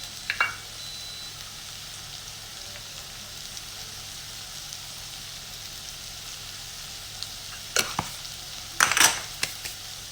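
Seasoned, salted potatoes cook in a frying pan with a faint, steady sizzle, broken near the end by a few louder clatters of a utensil against the pan.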